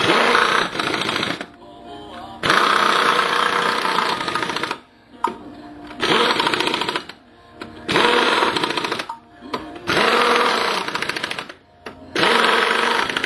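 An impact wrench tightens the wheel nuts in a star pattern on a 1991 Chrysler New Yorker after front brake work, with loud rattling bursts of a few seconds each, broken by short pauses between nuts.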